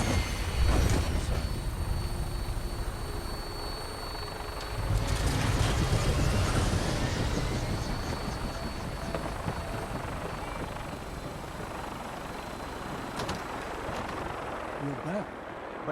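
A Vertibird aircraft setting down in the game Fallout 4, a steady rotor and engine drone under game voices, with a louder swell partway through before settling into a continuous hum.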